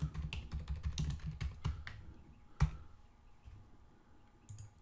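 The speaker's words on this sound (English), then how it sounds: "let's type his name right, send" Quick bursts of keystrokes on a computer keyboard as a name is typed into a chat message, with one sharper, louder key strike partway through before the tapping thins out and fades.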